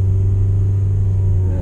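A Mazda with all-wheel drive and Bridgestone Blizzak winter tires runs over ice in winter, giving a steady, close, loud low engine and road rumble that holds even throughout with no voices.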